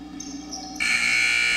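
Scoreboard buzzer at a women's college basketball game sounding at the end of a period, a loud, steady electronic blare cutting in over gym noise and holding to the end.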